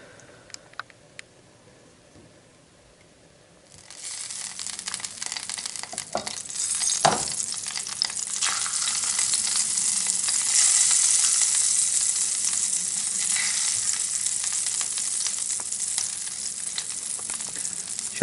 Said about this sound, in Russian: Сейчас нужно филе это обжарить с одной стороны, потом перевернуть, обжарить с другой стороны.